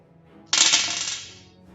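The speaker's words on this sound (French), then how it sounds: "Allez, lance tes dés." Dice clatter onto a hard surface in a single sharp burst during a tabletop role-playing game, rattling briefly before settling, with no voices over it.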